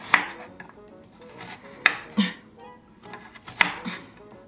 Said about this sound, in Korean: 칼질을 왜 이렇게 하는 거야?